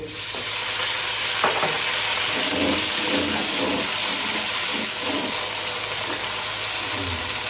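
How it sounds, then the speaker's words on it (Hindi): Water pours into a hot pan of spices and sizzles with a broad, hissing crackle that fills the whole stretch, bubbling steadily up close. "अब हम इसमें थोड़ा सा पानी ऐड करेंगे।"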